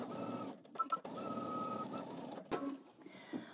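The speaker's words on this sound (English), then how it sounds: "using a long stitch, you're just gonna baste along the other edge." A domestic sewing machine runs a long basting stitch along the edge of a pocket facing for a pair of pants, a steady close whirring with brief pauses and restarts.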